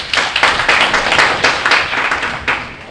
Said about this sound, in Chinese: 大家掌声。